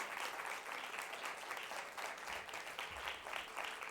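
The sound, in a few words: audience applause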